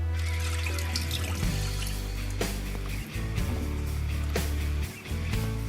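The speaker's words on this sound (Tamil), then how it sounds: "இப்போ இதுல 1 கப் அளவுக்கு நான் தண்ணி சேர்த்துக்கிறேன்." One cup of water poured into a pan of egg gravy, a continuous splashing pour with brief interruptions, fairly close and steady over a low background hum.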